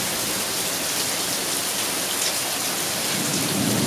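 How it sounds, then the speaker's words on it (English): Heavy rain pours steadily during a thunderstorm, a dense close hiss of drops on surfaces with a low rumble of thunder underneath and no talking. "just wanted you to see the rain and hear the thunder."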